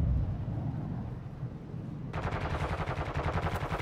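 Rapid automatic gunfire in Call of Duty: Modern Warfare II, a steady stream of shots that suddenly turns brighter and sharper partway through over a low rumbling battle bed.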